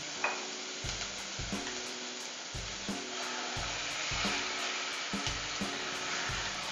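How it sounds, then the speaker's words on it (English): Spinach leaves and garlic sizzling in a hot pan, a steady frying hiss broken by rhythmic scraping and stirring strokes, close and moderately quiet, with no talking. "I'm just going to drop in my spinach leaves."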